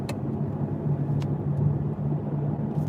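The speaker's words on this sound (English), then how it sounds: "Oh, now there's a car coming, of course." A car approaches along a dark country road, heard as a steady low engine and tire rumble with a faint hum, continuous and moderately loud from inside a moving vehicle, with no talk.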